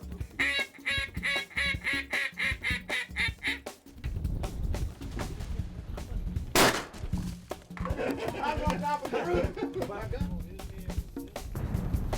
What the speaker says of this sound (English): Southland mean mallard duck call did its job.